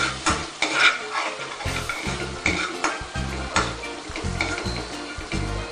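Ingredients for Mumbai street-style pav bhaji are stirred and mixed in a hot pan, a steady scraping and clatter of a spoon against metal over a continuous close sizzle, with no talking.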